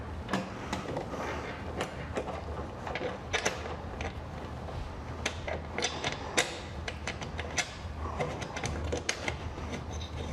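Metal bolts and fittings clicking and rattling as a bottle rack is fastened onto a covered toolbox, scattered sharp taps and creaks over a low background hum, close by.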